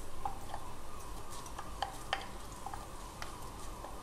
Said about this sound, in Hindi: देखिए, ऑयल अच्छा सा गर्म हो गया है और वो सब एक साथ सिकने लगे हैं।